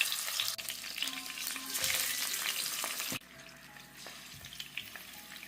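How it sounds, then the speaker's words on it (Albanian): Chicken thighs fry in hot oil at medium heat, a steady dense sizzle that runs loud and then drops to a quieter, crackling fry partway through, with no voices. "i skuqim kofshat e pules në të dy anët"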